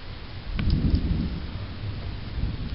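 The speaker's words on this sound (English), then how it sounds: "Raining. I know. I can hear it up there." Thunderstorm rain falling steadily with a low rolling rumble of thunder underneath, a dense, continuous wash of sound with no voices.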